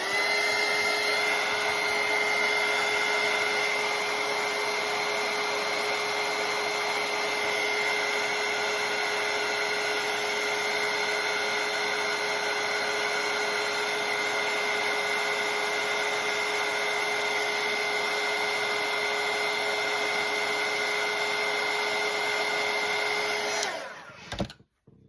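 A hair dryer blows a steady, loud, close whir over a watercolour painting for about 24 seconds, then clicks off and falls silent.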